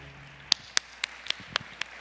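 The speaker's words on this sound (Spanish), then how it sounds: "un fuerte aplauso para el doctor Carlos Toro" Sparse clapping greets a presenter at an academic talk: about seven distinct, sharp claps spaced evenly, sounding like only a few hands in a quiet room.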